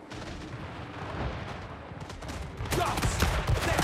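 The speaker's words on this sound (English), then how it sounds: "Oh, you shoot handguns." Handgun volleys crackle in Total War Warhammer 3 as a dense spread of distant gunfire and booming blasts. The firing grows louder and heavier toward the end.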